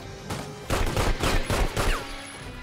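Shotgun gunfire in The Godfather video game: a quick string of about five loud, close blasts, one after another, with no talk.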